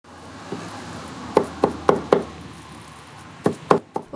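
An axe chops meat during Kurban Bayram preparations at a family home in Dagestan, a series of sharp wooden thuds in two bursts of blows over a low background hum, close and clear, with no talking.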